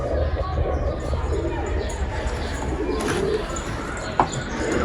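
Pigeons coo in a loft full of birds, low soft murmuring calls repeating through a steady busy din, with a brief sharp knock near the end and a little voice chatter underneath.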